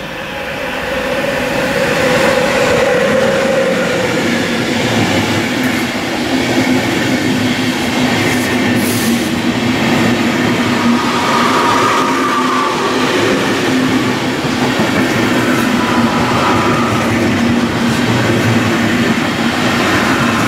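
A train passing at night near Mainz-Bischofsheim on the Rhine line gives a loud, sustained rumble of wagons rolling by. Low tonal hums and faint wheel noise run throughout, staying close and steady for about twenty seconds.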